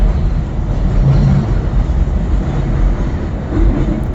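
A SEPTA Market-Frankford Line elevated train runs steadily between Frankford Transportation Center and 11th Street, giving a loud, continuous low rumble of wheels and carriage with no break across the whole stretch.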